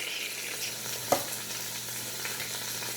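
Pot roast meat sizzling and frying in a pot, a steady close hiss with one brief sharp pop partway through, no voices.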